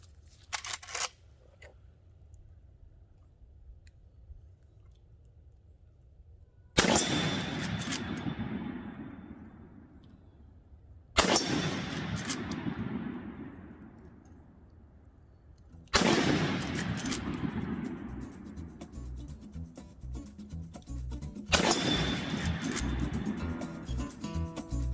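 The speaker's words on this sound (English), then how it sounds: "I'm going to shoot these guys downrange and then get in out of this mist." Marlin 336 lever-action rifle firing four loud shots downrange outdoors in misty weather, each a sharp crack with a long rolling echo, spaced several seconds apart with quiet between.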